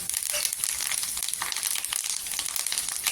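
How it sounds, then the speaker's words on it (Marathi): Cumin seeds and curry leaves sizzle and crackle steadily in hot oil in a pan, a dense continuous frying hiss with small pops, close and alone. "अर्धा चमचा जिरं टाकायचं जिरं छान असं तरतरलं पाहिजे त्याच्यावर आपण करीपत्ता टाकायचा"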